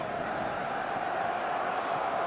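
Steady roar of a football stadium crowd in a video game, a dense continuous murmur and chant filling the space evenly at moderate volume, with no distinct peaks.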